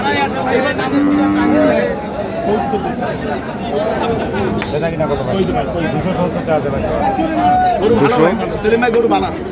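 Bulls of the local deshal breed, sold for Qurbani at Ambari market in Dinajpur, moo repeatedly and loudly nearby amid steady crowd chatter and haggling voices.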